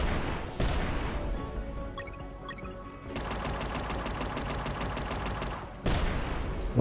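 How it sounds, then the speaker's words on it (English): Rapid automatic gunfire in the video game UnMetal, sustained bursts of evenly spaced shots in a steady rhythm, loud and close, with short pauses between volleys. "So I'm going to shoot that."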